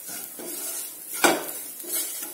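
Stuffed tinda is sautéed in a pan with a soft sizzle under scraping stirs and one sharp clack of a spatula against the pan, close and alone without voices.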